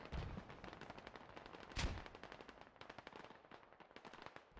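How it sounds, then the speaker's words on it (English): Sustained gunfire in the military shooter game Squad, dense rapid bursts of automatic fire crackling continuously with one heavier blast near the middle, fairly close and loud throughout. "A lot of fire coming in from the US's now."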